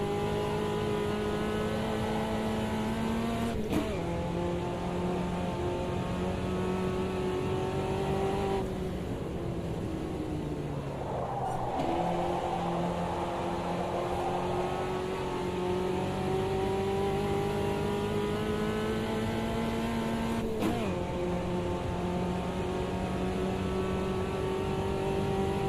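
A race car in a racing video game circles a track on cold tyres, its engine droning steadily with rising and falling pitch as it shifts gears and brakes for corners, loud and continuous.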